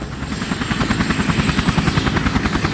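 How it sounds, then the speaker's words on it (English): A helicopter starts up in a Syphon Filter video game cutscene on PlayStation 1, its rotor chopping loudly in a fast, steady rhythmic pulse that builds slightly, close and dominant with no talking. "Who started the chopper?"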